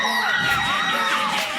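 A fired-up studio audience screams and whoops in a song recording, a shrill burst of overlapping yells sustained loudly across the moment.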